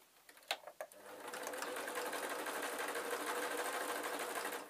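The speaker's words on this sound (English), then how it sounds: "and then I'm going to sew" A sewing machine stitches the legs onto a spider soft toy, starting after a few light handling clicks and then running steadily at close range for several seconds, a dense continuous whir with no talking.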